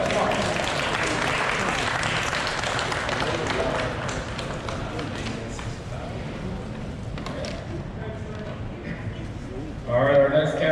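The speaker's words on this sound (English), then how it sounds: "Give a round of applause." A crowd at an outdoor car show in Charlotte, North Carolina claps for a 1965 Chevy Corvette's win. The applause is steady and fairly dense and dies away over about ten seconds, then a louder burst comes right at the end.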